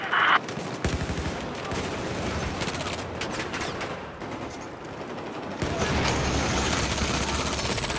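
Sustained bursts of CZ-3A1 gunfire in Battlefield 4 on Operation Locker, rapid close shots firing nearly nonstop, with dense battle noise swelling louder toward the end.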